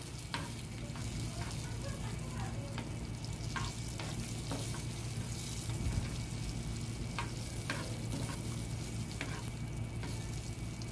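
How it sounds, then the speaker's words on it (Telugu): Urad dal, cumin seeds and dried red chillies sizzle steadily in hot tempering oil for a chutney, a continuous close frying hiss with scattered crackles and pops throughout, no voices. "పోపు పెట్టుకుంటాము దాంట్లోకి కొన్ని మినపగుళ్ళు జీలకర్ర వెండిమిర్చి ఈ మూడు వేసుకొని అయితే బగారించాలి చట్నీని"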